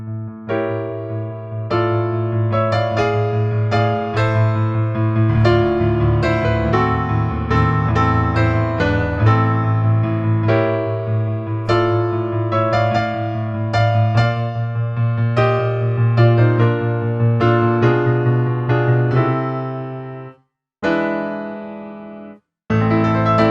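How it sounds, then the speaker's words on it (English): Solo piano plays a loud, bombastic section of Für Elise, with full sustained chords and a running melody over a heavy bass, ending in a few separate struck notes after brief pauses. "Part 4 sounds like this."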